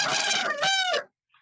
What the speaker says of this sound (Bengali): অনেক সুন্দর সুন্দর মুরগি আছে